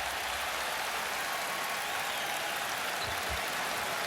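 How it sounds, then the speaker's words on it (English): A basketball arena crowd applauds steadily, a dense, even wash of clapping filling the space with no voices standing out. "Crowd appreciating that kind of unselfishness"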